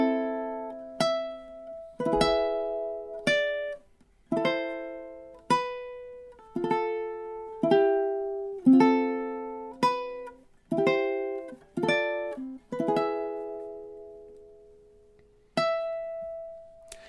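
Solo ukulele picking the melody of God Rest Ye Merry Gentlemen, clear plucked notes and chords in a steady moderate rhythm, close and alone with no talking.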